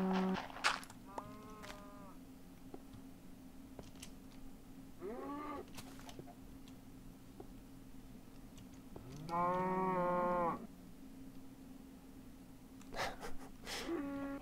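A cow in Minecraft gives several short, synthetic moos spaced apart, one longer and louder, over a steady low hum.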